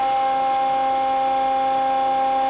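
Steady tonal hum of an electric motor running at its rated current, a constant whine with strong harmonics holding level throughout, loud and close with no voices.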